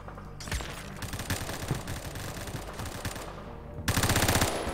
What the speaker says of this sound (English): he had a suppressor on an M60